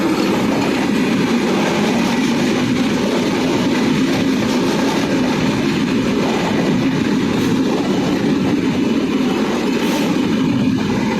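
A passenger train, a through train carrying few passengers, rolls past on the rail line in Bangladesh, a loud continuous rumble of wheels and carriages with steady clickety-clack from start to finish and no talk.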